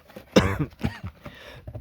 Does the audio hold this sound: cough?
yes